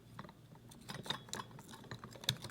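A plastic cover snapped onto a lamp socket during a recycled-lamp craft project, giving a few faint, sharp clicks and small plastic rattles close by, with one crisper snap near the end.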